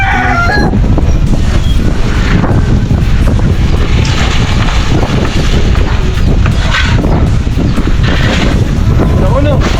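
Strong wind buffets the microphone in a loud, continuous roar throughout, steady and close with no clear breaks.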